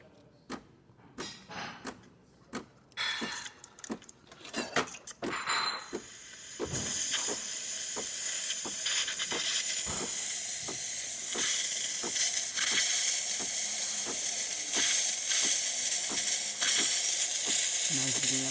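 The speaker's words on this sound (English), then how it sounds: "And starting with the steamer," Steam wand on a DeLonghi espresso machine hissing after a full tune-up, starting as short sputtering bursts and building into a continuous loud hiss that runs to the end.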